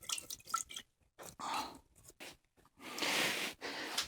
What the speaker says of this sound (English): Let's wash off our brush.